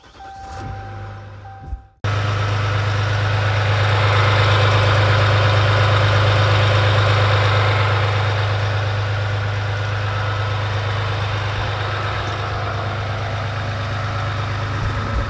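A 2020 EcoDiesel truck engine with a newly fitted turbo inlet pipe cranks at about two seconds and then idles steadily, a loud close low drone with a strong rumbling hum running alone for the rest of the clip.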